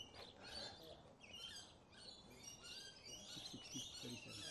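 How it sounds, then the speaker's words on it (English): Birds chirp outdoors at an auction, a faint, continuous twittering layered over distant crowd murmur and speech. "The birds are chirping."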